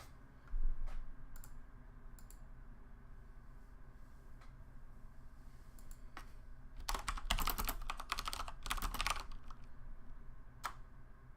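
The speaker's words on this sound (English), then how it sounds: "It is a Corsair mechanical keyboard. It needs to clack so everyone knows how hardcore a gamer I am." Clacking keys of a Corsair mechanical keyboard sound up close, with scattered single taps first and then a dense burst of rapid typing before it trails off into a few last clicks over a low background hum.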